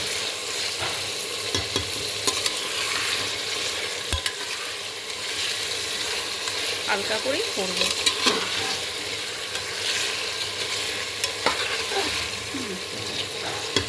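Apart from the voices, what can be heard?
meat stir-frying and sizzling in a pan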